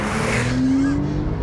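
Porsche 911 Turbo S pulling hard in second gear from around 30 mph, a steady loud engine drone with a rising tone partway through, heard close from inside the car.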